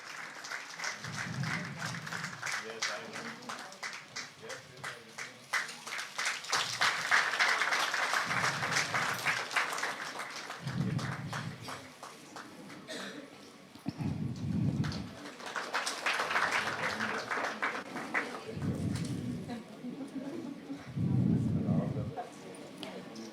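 Audience applause at a women's commission honour ceremony in Maharashtra, rippling clapping that swells and fades across the hall, with low rumbling thumps and a voice on the public address in places.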